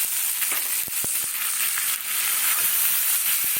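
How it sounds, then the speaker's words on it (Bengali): Loud, continuous sizzling of vegetables frying with spices in a pan, punctuated by sharp pops and clicks of stirring, close up with no talking. "মশলা দিয়ে সুন্দর ভাজা হয়ে গেছে"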